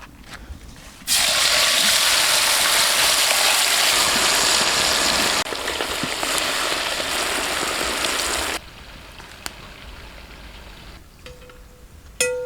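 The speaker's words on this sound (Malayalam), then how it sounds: "അപ്പോൾ നമുക്ക് അടുത്ത ബാച്ചും കൂടെ ഫ്രൈ ചെയ്തെടുക്കാവേ." Loud, steady sizzling of giant trevally pieces frying in hot coconut oil for several seconds, then dropping to a quieter crackle with a few faint clicks.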